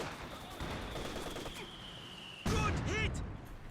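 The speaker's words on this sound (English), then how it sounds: "he's actually using the Zis barrage to knock down this garrison" ZiS-3 artillery barrage fire in Company of Heroes 2 lands on a garrison as a sudden heavy burst of blasts and crackling gunfire over quieter background battle noise.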